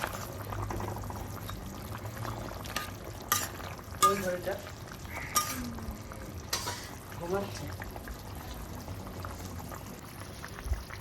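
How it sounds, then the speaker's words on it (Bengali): Fried katla fish drops into boiling gravy for a Bengali fish curry. A low, steady bubbling simmer runs throughout, broken by a few clattering splashes and stirring noises, while a voice speaks briefly. "ঝোলটা ভালো করে টকবক করে ফুটছে, এই অবস্থায় আমি ওই ভেজে রাখা মাছগুলো ঝোলের মধ্যে দিয়ে দিলাম।"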